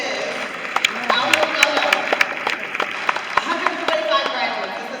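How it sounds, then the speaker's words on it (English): Audience at a high school graduation ceremony for Sci High applauds, with scattered claps and crowd noise mixed with voices and talk throughout, fairly close and moderately loud. "Give yourselves a round of applause."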